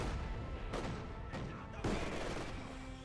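Rapid machine-gun bursts from German Grenadier MG42 teams in Company of Heroes 2, a dense battlefield of chattering fire with sharp cracks and a heavy impact, mixed with a commentator talking over it.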